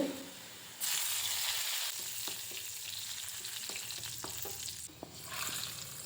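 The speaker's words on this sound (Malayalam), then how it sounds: "ഒരു ചീനച്ചട്ടിയിലേക്ക് വെളിച്ചെണ്ണ ഒഴിച്ച് ചെറിയ ഉള്ളിയും കറിവേപ്പിലയും ചേർത്ത് മൂപ്പിച്ച് ചേർക്കാവുന്നതാണ്" Shallots and curry leaves fry in coconut oil in a small pan, a sudden bright sizzle bursting in and crackling steadily, with a series of sharp spoon taps against the metal.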